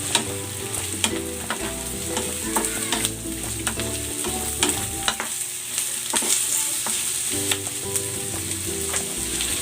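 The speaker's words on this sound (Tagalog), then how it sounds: "Lalagay ko na dito itong carrots at ang sayote." Carrots and chayote stir-fry in a hot pan for pancit, a steady sizzle under repeated clinks and scrapes of a spatula stirring the vegetables, close and continuous with no talk.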